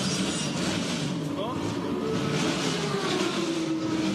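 Porsche Carrera RSR race cars idling and moving through a busy pit lane during driver changes at a classic endurance race at Dijon, a steady dense engine drone with a voice speaking over it throughout.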